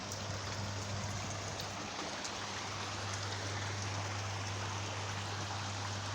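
Water overflowing at a lock on the Rochdale Canal near Littleborough, a steady rushing stream of even, continuous splashing with a low constant hum underneath and no voices.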